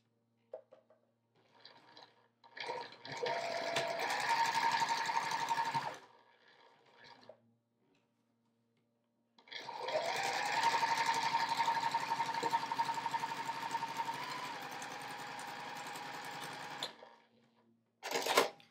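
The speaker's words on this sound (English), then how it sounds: "We're going to stitch around 1/4 of an inch." A sewing machine stitches fabric with elastic along a quarter-inch seam, with two sustained runs of close, steady whirring separated by quiet pauses and a brief burst at the end.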